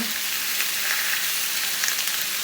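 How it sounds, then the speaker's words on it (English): Garlic sizzles steadily in a hot cast iron pan, a continuous close frying hiss with faint crackles and no talking, cooked as part of a chicken souvlaki wrap. "we're literally gonna take enough for about 3 cloves of the garlic and throw it in there as well too"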